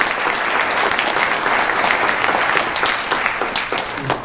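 Steady, dense audience applause at a town hall meeting, many hands clapping at once and holding at a constant level throughout with no break.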